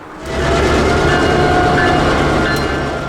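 A freight train rumbles past close by, a loud steady roar with rhythmic rail clatter that swells quickly and fades slightly toward the end.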